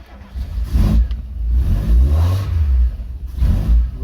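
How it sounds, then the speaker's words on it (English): A VW Mk2 Golf 16V GTI with bike carburettors and no choke is started from cold with throttle, giving a loud close engine turning over and catching, then a series of blips and revs. "there's currently no choke fitted to this vehicle, so we do need a little bit of throttle to start it"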